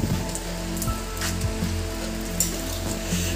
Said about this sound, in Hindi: लेकिन बारिश को देखो।